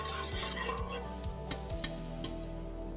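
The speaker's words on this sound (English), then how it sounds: "So whisk that all together." Sesame oil, salt and other seasonings whisked together in a bowl as a sauce for chicken wings, with a steady scrape and clink of the whisk, several sharper taps standing out, close and fairly quiet with no talking.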